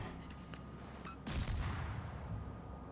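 A heavy boom of enemy ship gunfire in a naval warfare video game, one sharp blast followed by a rumbling tail over steady low background noise.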